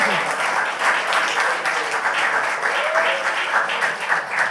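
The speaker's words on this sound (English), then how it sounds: "Y'all clap your hands, young people." Young people in an audience at a hosted event clap their hands, a steady wash of applause from a crowd, dense and moderately loud with some voices mixed in.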